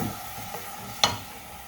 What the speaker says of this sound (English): Kind of stir it up to keep it off the bottom, from burning on the bottom.